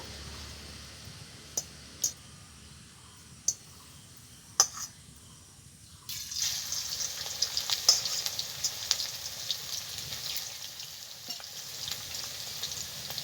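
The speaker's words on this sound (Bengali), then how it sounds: "ভিন্ডি অল্প অল্প করে দিয়ে আমি ভেজে নেব" Okra frying in hot white oil in a wok over medium heat: a steady close sizzle that swells louder partway through as more pieces go in, with a few sharp clicks and scrapes of stirring.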